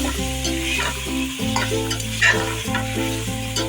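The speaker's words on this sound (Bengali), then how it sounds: "আমার চিকেন পিসগুলো এতে দিয়ে সুন্দর করে নেড়ে চেড়ে একটু ফ্রাই করে নিতে হবে।" Chicken pieces stirred and fried in a pot for chicken biryani: a continuous close sizzle with occasional spoon scrapes, heard beneath steady background music.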